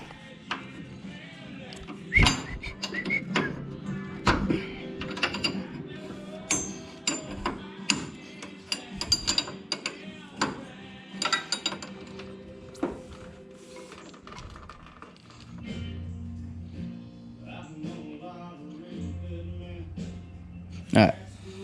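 Ratchet and hand tools working on the steering rack bolts under a race car, giving irregular sharp metallic clicks and clanks close by over about twenty seconds.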